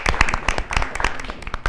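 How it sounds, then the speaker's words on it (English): Audience applause and clapping for a high school group called on stage at an awards event, a burst of dense hand claps with a few voices mixed in, lasting under two seconds. "Everyone give them a round of applause."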